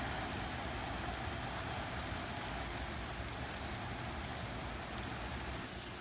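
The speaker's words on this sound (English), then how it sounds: "it starts pouring rain" Heavy rain pours down steadily, a dense, unbroken hiss of drops drumming on surfaces.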